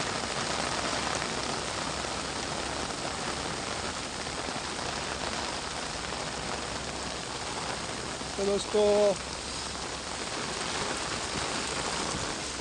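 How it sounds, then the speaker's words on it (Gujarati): Steady, dense heavy rain hiss in Vapi-Bhilad, Gujarat, fills the whole clip, heavy and close, with a brief spoken phrase near the end. "બહુ ભારે વરસાદ પડે છે"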